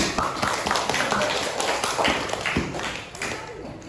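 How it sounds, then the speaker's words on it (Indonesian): Students in a classroom clap for group 1 after its presentation, a scattered patter of hand claps with uneven taps and a few louder slaps, close by, fading slightly toward the end, with some murmuring voices mixed in. "Kasih tepuk tangan lagi Nak"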